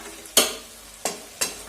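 Spice masala being sautéed in a pan gives three sharp stirring scrapes over a soft, steady sizzle, close and fairly loud.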